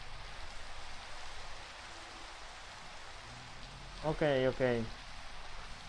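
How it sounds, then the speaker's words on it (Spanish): Rain falling over a swamp in a video game, a soft steady patter of rainfall in the background, with a brief spoken word near the end. "Se pone a llover."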